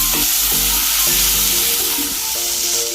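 Chopped tomatoes frying in a pan for semiya kichadi, a dense steady sizzle with repeated scraping strokes of a spoon or spatula stirring, close and loud with no talk.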